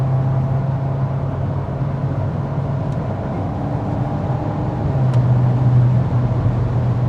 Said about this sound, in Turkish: Bu arabanın kendi motor sesinden gelen mekanik ses.